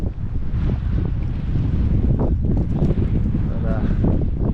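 Strong wind blowing across an open fishing boat at sea while snapper fishing, a steady roaring buffet on the microphone throughout with low rumble and faint water movement beneath it.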